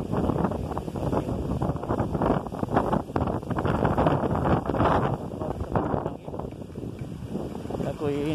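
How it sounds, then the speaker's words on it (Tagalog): Strong gale-force wind buffets the microphone in a constant roar while a person talks over it. "Ako'y natatangay ng hangin."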